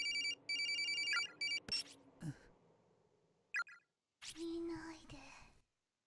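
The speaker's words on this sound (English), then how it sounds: "There's no message telling me who's calling. Just a ringtone." A phone ringtone in the horror video game Corpse Party plays as a quiet repeating electronic trill in short bursts, followed by soft whispering voices and a low tone.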